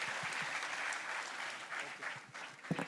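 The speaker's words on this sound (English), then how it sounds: "Can we have a huge round of applause for Rahul Joshi, sir?" An audience at a live school opening ceremony claps steadily for a speaker, a fairly distant, even round of applause lasting the whole stretch.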